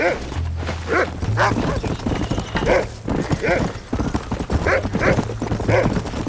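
A dog in Red Dead Redemption barks and yips several times in short irregular bursts alongside clip-clopping horse hooves, while voices talk over it.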